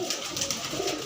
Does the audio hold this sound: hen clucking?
no